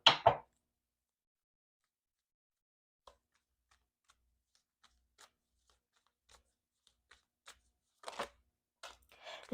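Tarot cards are shuffled in short, crisp bursts at the start and near the end, with scattered soft clicks and taps of cards between them in a quiet room.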